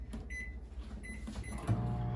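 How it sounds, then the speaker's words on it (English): A kitchen microwave oven runs while melting butter, a low steady hum with a few soft clicks and a brief clunk near the end, close by and moderately quiet. "It has to be melted in a microwave."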